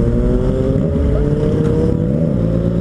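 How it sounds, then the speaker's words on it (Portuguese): A Yamaha MT-09 Tracer motorcycle engine runs loud and close, a steady throbbing growl with a slight rise and fall in pitch as it revs, mixed with wind noise. "Motor, galera, o motor"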